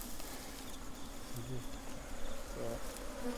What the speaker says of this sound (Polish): Pszczoły afrykańskie tak właśnie brzmią.